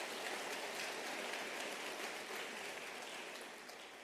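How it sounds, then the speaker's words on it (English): Soft, distant audience applause for Thabo Mbeki, former President of South Africa, at a University of South Africa gathering: steady rain-like clapping that slowly tapers off. "Can we please give him a round of applause?"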